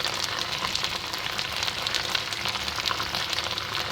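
Capsicum and carrots fry in a pan for peri peri rice, a dense, continuous close sizzle with faint stirring scrapes and no voices.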